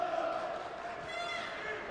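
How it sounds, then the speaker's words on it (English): A steady roar rises from fans in an arena crowd at a basketball game between Bulgaria and Bosnia and Herzegovina, with cheering voices and a basketball bouncing, under a commentator's talk. "you can hear several Bosnian fans in the crowd have made the journey on the Friday"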